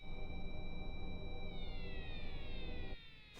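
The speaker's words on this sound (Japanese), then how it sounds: "サイレン鳴ってるけど外にいるの？" A siren wails outside in an anime scene, a loud steady electronic tone that bends downward in pitch before cutting off abruptly near the end.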